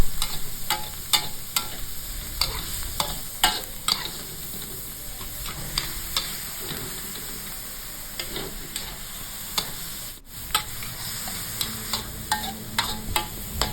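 Minced pork and bamboo shoots are stir-fried in a pan, a steady sizzle of frying under repeated scraping of a spatula that lands in a loose, uneven rhythm and stays close and fairly soft throughout.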